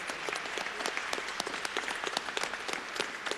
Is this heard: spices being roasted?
no